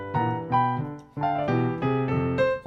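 Boogie woogie piano in F played with a steady rolling bass line and rhythmic chords at a brisk, driving pace, loud and clear with no talking.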